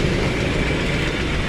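Steady, loud, close drone of a carburetted Toyota Tamaraw FX 5K engine running at idle, an even low rumble with no change in pace and no talk.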